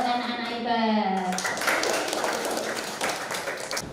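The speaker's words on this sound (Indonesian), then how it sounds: "tepuk tangan buat anak-anak hebat" Children clap their hands in a classroom, a dense burst of many small hands after a teacher's voice, close and lively, lasting a few seconds.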